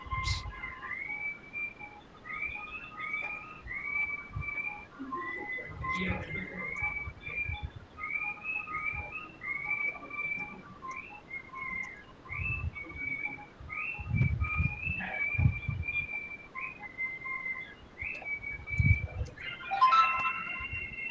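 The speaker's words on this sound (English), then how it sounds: "I can hear someone whistling in the background." Someone whistles a repeating rising tune over and over, fairly clear and steady, with faint background thumps and room noise.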